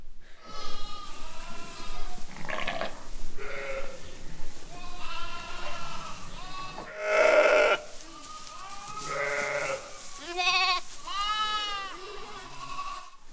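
Ewes and lambs bleating in a sheepfold during lambing season, many overlapping calls at varied pitches, some near and loud, others fainter, in an irregular chorus.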